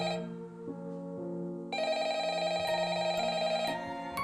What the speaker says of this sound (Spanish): Para mi sorpresa el teléfono sonó